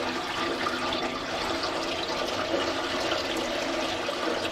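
Old engine oil drains from a semi truck that sat for many years, pouring into a drain pan in a steady, continuous rushing splash that stays constant and fairly loud throughout.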